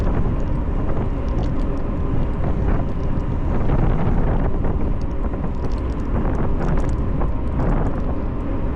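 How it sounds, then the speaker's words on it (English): Strong wind buffets the microphone while someone rides a bike along a rail trail, a loud continuous low rumble with gusting swells and no voices. "Ooh, that wind feels good."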